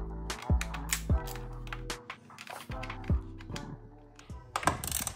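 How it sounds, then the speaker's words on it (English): A 1/4-inch drive ratchet wrench with a T25 socket loosening the controller cover on a 72V RAWRR Mantis X: quick runs of close, crisp ratcheting clicks with short pauses, over quiet background music. "Just using a 1/4-inch drive wrench with a T25 socket."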